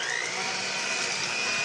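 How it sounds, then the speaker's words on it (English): A hand-held electric cake mixer whirs steadily, beating refried beans and cream cheese into a dip. The motor whine stays close and even for the whole brief moment. "I'm going to give this a good mix with a cake mixer"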